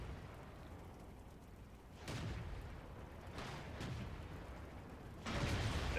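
Artillery shells in a World of Tanks battle land as a few distant, muffled booms, three or four separate thuds rising out of a low, steady rumble of background noise.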